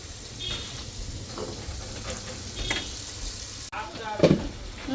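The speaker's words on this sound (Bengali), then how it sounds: "মশলা কষাই নিলাম" Spices fry in a pan with a close, steady sizzle broken by stirring scrapes and a few knocks against the pan, and a voice briefly audible.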